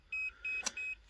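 A Makita battery charger with a broken battery beeps while both lamps blink: a steady, close, high electronic tone pulses about four times in even rhythm, with one sharp click between pulses.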